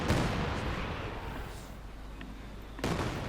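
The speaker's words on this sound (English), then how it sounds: "the Katyusha is just firing everything he's got at that MG42" Katyusha rocket artillery firing at an MG42 position in the World War II strategy game Company of Heroes 2, a dense rumbling barrage of rapid launches and blasts, loud and close, with a sharp fresh burst near the end.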